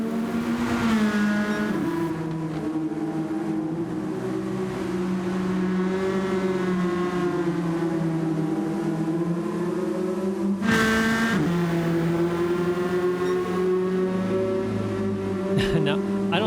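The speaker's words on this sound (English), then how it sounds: "Looks like he's electing to have several cars pass him as he goes down the straight." Several race cars in a racing video game pass on a wet straight, their engines droning steadily in layered, shifting tones, with a brief sharper burst partway through, over continuous commentary.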